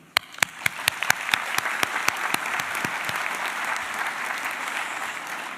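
Audience applause at a healthcare sciences declaration ceremony: a few sharp, separate claps open it, then a dense, steady ovation from a large crowd fills the hall and continues without pause.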